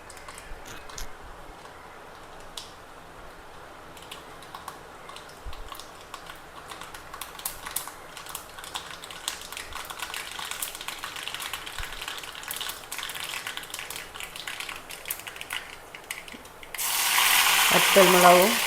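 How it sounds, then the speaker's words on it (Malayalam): Mustard seeds crackle and pop in hot oil while tempering a curry, a steady scatter of small sharp clicks building through the clip before a sudden loud hiss near the end. "കടുക് പൊട്ടിക്കാം"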